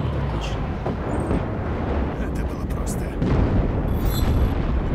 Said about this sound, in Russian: даже отсюда вот бомбануло конкретно, ребят